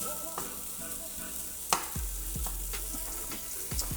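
Smoked turkey sausage browning in a pan, a soft continuous sizzle broken by occasional utensil clinks and scrapes, moderately quiet and close, with no speech.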